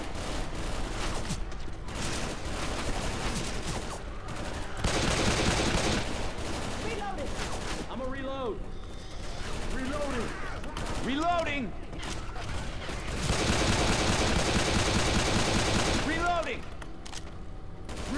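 Rapid gunfire in the video game Left 4 Dead 2, a dense continuous barrage of shots with metallic impacts, loud and sustained throughout, with a few whooshing effects mixed in.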